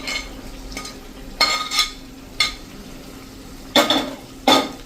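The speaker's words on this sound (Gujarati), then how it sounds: "હવે આપણે જે આ બટેટાના પીસ કર્યા છે ને મેરિનેટ કરેલા એ નાખી દેશું." Marinated potato pieces for a farali dry potato dish going into a pan and being stirred, heard as several separate clattering scrapes of spoon against metal over a soft frying hiss.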